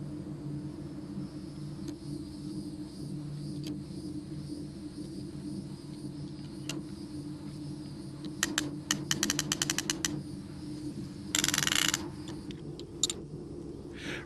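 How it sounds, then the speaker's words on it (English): A ratchet tensioner tightening ElectroBraid horse fence braid gives a quick run of sharp clicks partway through, then a short rasping burst, over a steady low background hum. "attach the ratchet system and tension the braid"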